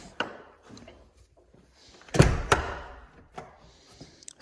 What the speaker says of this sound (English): This old used door, the handle doesn't work very well.